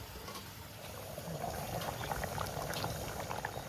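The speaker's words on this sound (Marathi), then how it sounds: "डाळीला बघा कसा मस्त असा कड आलाय." A pot of dal simmers and bubbles vigorously on the stove, a steady close hiss of popping bubbles that holds evenly throughout, fairly quiet with no voices.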